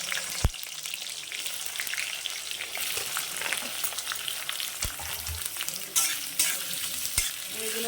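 Sliced onions fry in a pan of oil and ghee with a loud, steady sizzle throughout and a few sharp stirring clicks, close to the microphone and with no talking.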